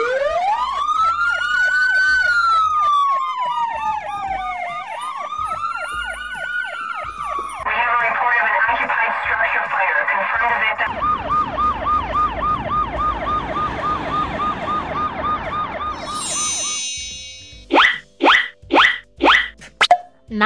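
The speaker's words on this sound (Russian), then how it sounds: "Это машина скорой помощи." Loud ambulance sirens cycle through several patterns, a rising and falling wail, then fast yelping, then rapid whoops, all close and without speech.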